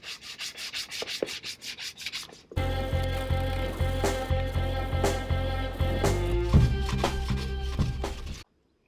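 Body filler on a Mk2 Escort being rubbed down by hand: after a brief quieter stretch, close, rhythmic back-and-forth sanding strokes run steadily until they stop abruptly.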